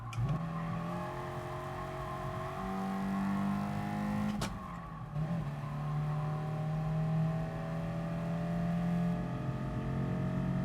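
A race car engine in the video game Gran Turismo Sport, driven around a track as it revs up and down in long, loud, steady tones, with a brief sharp shift partway through.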